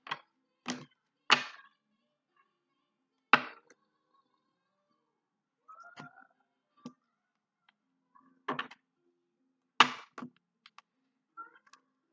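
Sharp, separate card-riffle snaps and soft slaps spaced irregularly over quiet silence, close by, with no talking.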